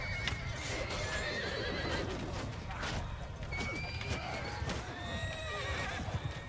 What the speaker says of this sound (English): Looks like they're going to be charging our horse archers instead